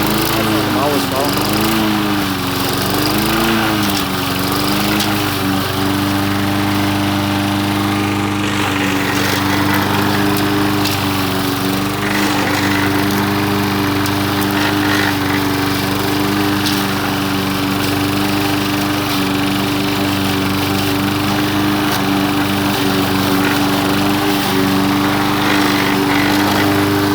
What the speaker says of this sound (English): The old winter grass is coming through, so it doesn't cut as well as it did, but that's not the mower's fault.